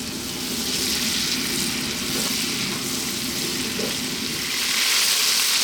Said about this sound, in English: I'm going to fry this lamb around for about 4 minutes, keeping it moving